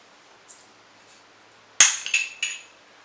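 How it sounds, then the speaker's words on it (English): A glass-topped cap is worked off a Shelter Point whisky bottle: a faint tap early on, then a sharp glassy clink followed by a few quick rattling chinks, close and alone. "push from the side to get the cap off with these glass-topped Shelter Point bottles"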